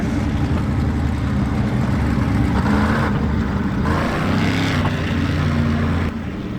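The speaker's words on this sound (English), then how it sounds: "The cars are catching up to the pace truck." Dirt track race car engines drone behind a pace truck in the iRacing motorsport simulation, a steady, loud layered engine hum with shifting pitch as cars bunch up under caution, with no talking.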